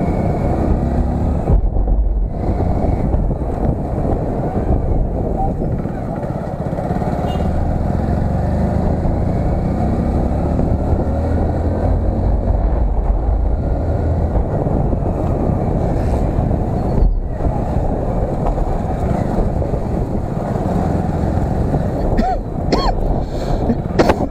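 Hero Splendor Plus XTEC motorcycle ridden fast on a road near Gorakhpur, with heavy wind buffeting the microphone and a steady low engine drone underneath, loud and continuous with brief gaps and a few throat sounds from the rider.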